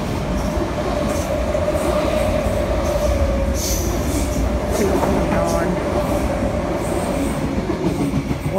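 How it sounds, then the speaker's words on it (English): A train rumbles loudly close by, with rhythmic clattering of wheels and some high squealing, a steady roar throughout. "Train's coming in."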